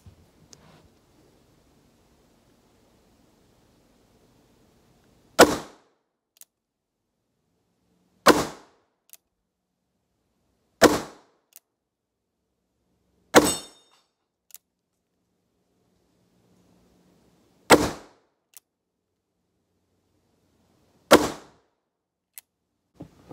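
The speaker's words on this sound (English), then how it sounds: ".357 all day. There's no doubt about it. So let's see what that does." Revolver gunshots from an Uberti Cattleman II pistol firing .357 ammunition at an outdoor range, six loud, sharp single shots spaced a few seconds apart with quiet between them.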